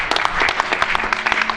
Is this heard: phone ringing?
no